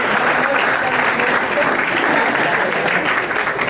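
A crowd applauds loudly and continuously, a thick wash of clapping with a faint murmur of voices underneath.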